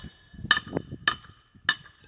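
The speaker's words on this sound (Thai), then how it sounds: "ใช้ค้อนทุบลง เพื่อให้แผ่นเพจไปติดอยู่กับปูน" A hammer strikes a metal form plate against a concrete column three times, each a sharp ringing metallic clank spaced about half a second apart, close by.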